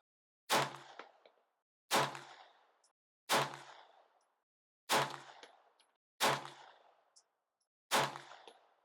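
Six sharp gunshots at an outdoor shooting range, each a loud crack with a short ringing tail, fired one at a time at a slow, even pace with pauses between them and no talking.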